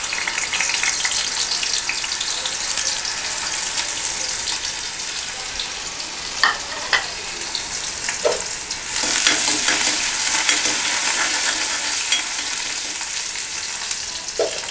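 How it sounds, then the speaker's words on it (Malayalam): Crushed ginger and garlic fry in coconut oil in a pan for a Kerala-style egg roast, a continuous sizzle broken by scraping stirs and sharp clatters, growing louder as more hits the hot oil, with nobody speaking. "ഇനി അതിലേക്ക് നമുക്ക് ചതച്ച് വെച്ചിരിക്കുന്ന ഇഞ്ചി, വെളുത്തുള്ളി എന്നിവ ചേർക്കാം"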